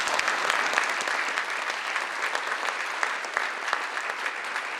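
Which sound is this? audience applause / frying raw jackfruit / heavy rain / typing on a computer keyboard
audience applause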